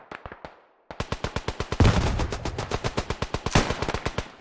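Machine gun fire in the World War I shooter Beyond the Wire: rapid, evenly spaced bursts of loud, close shots, a brief pause after a few opening rounds, then a sustained rattling stream.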